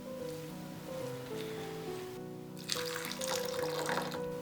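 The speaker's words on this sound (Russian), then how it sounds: "Добавляем обычную воду питьевую." Drinking water pours into a meat and pumpkin filling for manti, a soft liquid trickle over a background of tonal music, with a brighter splashing burst near the end.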